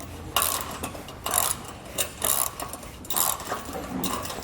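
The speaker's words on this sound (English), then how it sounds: "Come back with my ratchet and wrench and tighten it down." Ratchet wrench tightening a nut on a Malone EcoLight Sport trailer, heard as repeated close, loud bursts of ratcheting clicks with short pauses between strokes.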